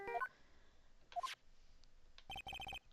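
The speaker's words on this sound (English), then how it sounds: "what is with this stupid sounding ringtone?" A phone ringtone in the Ace Attorney: Justice For All video game plays as short electronic beeping notes, with scattered tones at first and then a quick run of evenly spaced beeps, fairly quiet and without speech.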